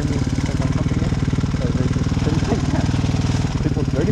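A motorcycle engine idles in neutral close by, a loud, steady rapid-fire putter with an even pulsing rhythm and a faint voice underneath.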